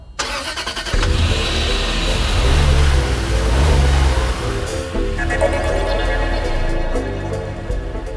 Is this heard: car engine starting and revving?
yes